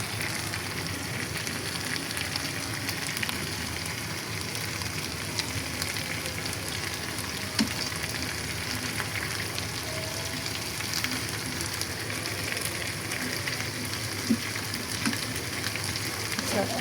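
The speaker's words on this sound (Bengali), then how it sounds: "এখন আমি এটার উপরে একটু তেল ব্রাশ করে দিব।" Tandoori chicken pieces sizzle steadily as oil is brushed over them. The crackle is soft and even, with occasional small pops, continuing throughout.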